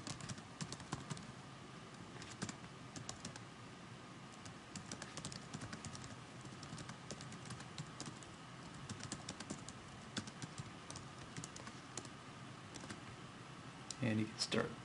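Steady typing on a computer keyboard, a continuous stream of light clicks, with a person speaking softly over it.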